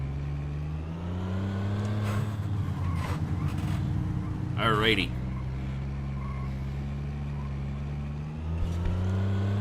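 Pickup truck engine driving in The Godfather: The Game on PS2, a steady mid-pitched motor drone with slight revving shifts throughout, under someone talking.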